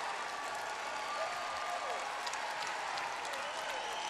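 A basketball crowd in the Greensboro Coliseum cheers and applauds as North Carolina's women close out a win over Clemson, a steady roar under a commentator's voice.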